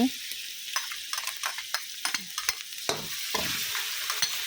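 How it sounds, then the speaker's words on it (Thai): Fried snakehead fish is stirred in a pan with a metal spatula, sharp irregular scrapes and clacks against the pan over a soft sizzle, close and fairly quiet. "เอาตะหลิวนะคะ ยีๆสักหน่อยนะคะ"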